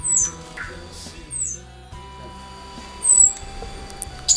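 Tledekan gunung birds at a breeder give a few sharp, high chirps and squawks scattered through the clip, partly under someone talking nearby.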